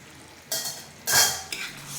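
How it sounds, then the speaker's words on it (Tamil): Boiled cluster beans tipped into a simmering kuzhambu and stirred, giving three separate bursts of clinking and scraping, with the middle one loudest, over a quiet kitchen background. No one speaks. "இந்த ஸ்டேஜில் நம்ம வேக வச்சுருக்கிற அந்த கொத்தவரங்காயை இதோட சேர்த்துக்கலாம்"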